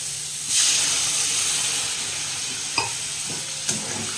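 Water poured into a pan of spiced pointed gourd curry sets off a sudden loud hissing sizzle that slowly settles, with a couple of sharp utensil taps later on and no speech.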